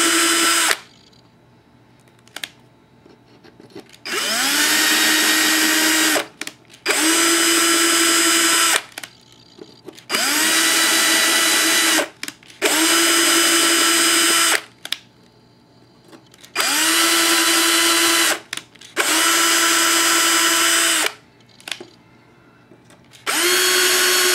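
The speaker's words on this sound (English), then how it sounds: "So I'll just put a 2mm tap on my drill and just run that drill into each one of those nuts" A power drill running a 2mm tap into nuts whirs in repeated bursts of a few seconds each, spinning up with a rising whine and stopping between runs, close and loud.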